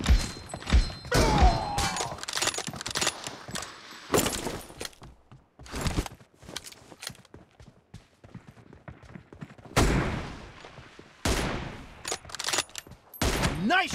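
Bolt-action M24 sniper rifle shots in a video game, several loud sharp blasts spaced irregularly with quieter clatter and thuds between them, close and punchy.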